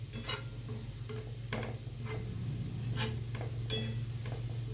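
Moussaka stirred in a pan gives soft, irregular scraping ticks over a steady low sizzle and hum, quiet and close, with no talking.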